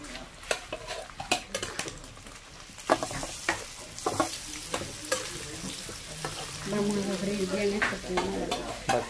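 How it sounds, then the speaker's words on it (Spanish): Chopped cilantro, onion, chile and tomato sauté in a pan, a close sizzle punctuated by repeated spoon and pan knocks and scraping stirs, ending in a steadier frying hiss, without talk. "Va a quedar sofreído, sofrito."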